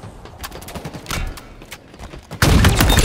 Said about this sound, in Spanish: Menudo disparo.